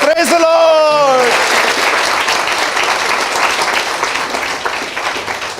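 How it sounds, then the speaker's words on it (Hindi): A church congregation breaks into loud, sustained applause that fills the room for several seconds, starting just as a voice finishes speaking and slowly easing toward the end. "आइए इस कलाम के लिए ताली बजाएं।"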